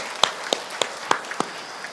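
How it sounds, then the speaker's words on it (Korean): Congregation applauding in a church, heard as a handful of sharp, separate claps spaced about a third of a second apart rather than a full ovation, fairly faint and with no talking. "저희 손 들으시면 목사님 박수 한번 쳐주세요."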